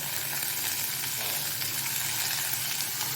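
Onion and chopped tomato fry in hot oil in a pan while making Bengal gram dal chutney, giving a loud, continuous, even crackling sizzle with no pauses.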